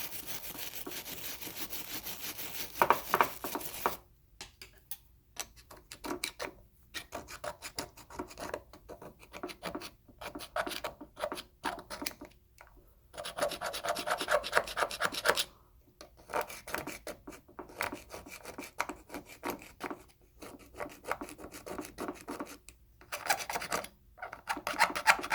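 A small brush scrubs inside a Mikuni carburetor from a Yamaha 1200 engine, giving close, dry rasping strokes in irregular bursts separated by brief pauses.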